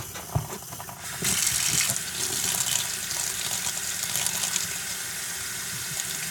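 Fluid gushes out of a freshly cleaned hose: a small clunk, then a strong, steady rushing pour that runs close and continuous to the end, with no talking.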